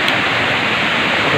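Steady broadband roar of a waterfall heard from directly above its drop, loud and continuous with no break or talk.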